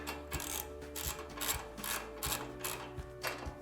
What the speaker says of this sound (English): Once the nuts are hand tight, we're gonna take our 13mm socket